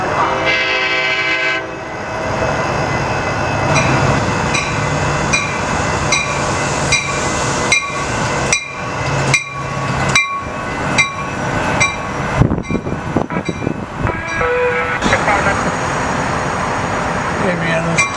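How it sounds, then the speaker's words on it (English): Amtrak 595 passing with cab car 6905 in the lead, a loud, close rumble with rhythmic wheel clicks and bursts of horn-like tones over roughly eighteen seconds, with some voices in the background. "Amtrak 595 would come not too long later, with cab car 6905 in the lead."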